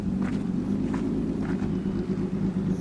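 A 1958 Lister Jaguar Knobbly race car engine drones steadily in the distance, a low, constant rumble that holds level without a clear pass-by.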